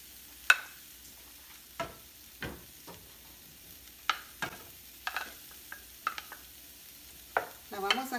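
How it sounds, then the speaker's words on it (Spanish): Chopped fajita meat cooks in a cazuela, giving a faint low sizzle broken by scattered, sharp scrapes and knocks of a spoon against the pot, ending in a brief burst of crackling. "la vamos a poner a la cazuela para que se siga"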